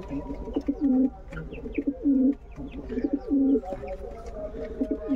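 A king pigeon coos repeatedly in close, rhythmic bursts of low throaty calls, with faint background chatter from other birds around the loft.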